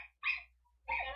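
A dog gives two short, sharp barks close by, separated by a brief silence.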